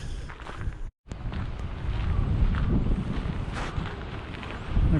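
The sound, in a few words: strong wind blowing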